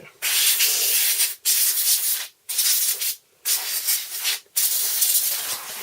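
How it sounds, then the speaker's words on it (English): Cleaner sprays and a wiping cloth hiss and rub across an old Amiga computer in about five close, loud bursts separated by short pauses. "try this spray here"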